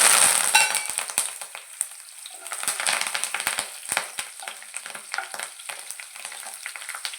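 Cumin seeds and curry leaves sizzle and crackle in hot oil in a pan, with a loud initial burst settling into steady popping and spitting, no voices.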